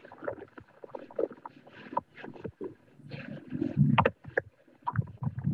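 A boat moves across pink, hypersaline water on Great Salt Lake, giving irregular bursts of rumbling engine and water noise with wind buffeting the microphone, rising and falling in loudness throughout.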